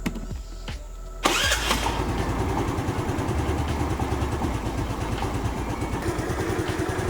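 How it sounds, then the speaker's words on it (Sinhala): A Hero Dash or Maestro Edge scooter engine starts after a quiet moment and settles into a steady, even idle with a rapid regular putter, close and continuous to the end. "අපි දැන් විනාඩි 2ක් විතර බයික් එක ස්ටාර්ට් කරලා තිබුණා අයිඩල් එකේ."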